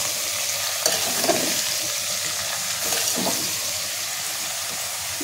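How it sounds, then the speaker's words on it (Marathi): Mixed vegetables seasoned with salt and masala sizzle and fry steadily in a pan, with a few scraping stirs breaking through the constant close hiss. "2 ते 3 मिनिटं आपल्याला असं परतून घ्यायचं त्याच्यावरती।"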